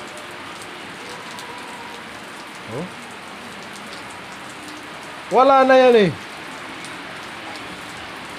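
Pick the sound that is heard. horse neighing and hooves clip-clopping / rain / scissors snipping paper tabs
rain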